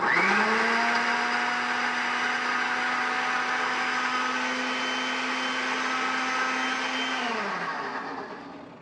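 A kitchen blender purees skinned, roasted red pepper in a steady, loud motor whir that runs about seven seconds, then winds down and stops near the end, with no talking.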